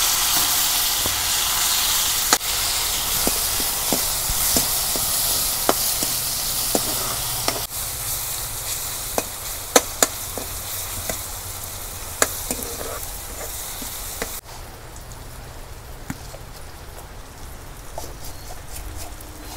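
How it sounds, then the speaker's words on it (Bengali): Onions sizzle steadily in hot oil in a wok on a traditional clay stove, a broad close hiss broken by scattered clicks and spatters that eases somewhat in the last few seconds. "তেল গরম হয়েছে এখন আমি পেঁয়াজ দিয়ে দিই"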